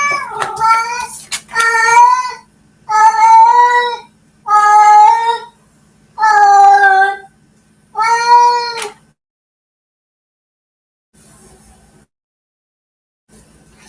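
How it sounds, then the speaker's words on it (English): A pet cat meows six times in a steady series of loud, close, drawn-out cries over about nine seconds, then falls silent apart from faint room noise. "Sorry, that's my cat."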